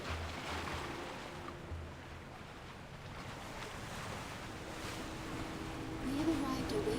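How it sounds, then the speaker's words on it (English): Wind and sea waves in the story of the game To Our Yesterday: a steady, broad rushing roar of wind and surf that holds throughout and swells a little louder near the end. "The wind and waves are intensifying."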